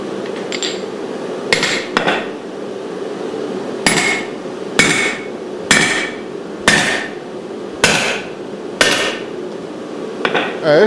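A hammer drives a drift cold into a damaged hole in a 4140 steel part, about a dozen sharp, ringing metallic strikes spaced roughly a second apart, close and loud, with no speech.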